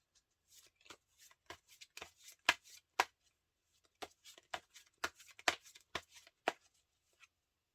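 Tarot cards are shuffled by hand in a quiet room, a series of crisp, close riffling snaps in irregular bursts with short pauses between them.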